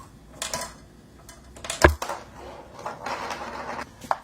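Marble rolling and rattling across a homemade coaster snare drum with no rice inside, giving a series of light wooden clicks and taps with one sharper knock near the middle, close and fairly quiet.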